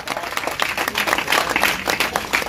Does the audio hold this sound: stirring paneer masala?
no